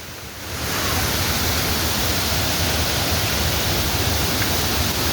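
Spray and rushing water at Three Falls in Santa Maria, Laguna: a dense, loud, steady roar of falling water that swells in within the first second and holds constant, with no talking.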